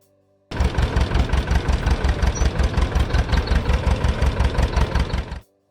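A 1937-era John Deere L tractor engine idles alone with a steady, loud, rhythmic chugging pulse after starting abruptly, then cuts off near the end.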